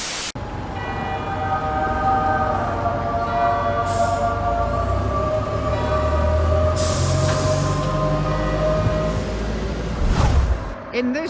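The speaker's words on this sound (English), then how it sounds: "here comes the pinky train now" A pink Sheffield Supertram arriving at the Middlewood terminus, rumbling and whining steadily as it approaches and slows, with a brief squeal near the end and people talking nearby.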